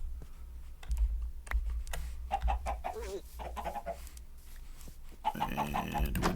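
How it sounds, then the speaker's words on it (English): A chicken in Minecraft Java Edition clucks in short, repeated calls, mixed with keyboard typing and clicks, then denser game noise toward the end. "Does this chicken want to come through?"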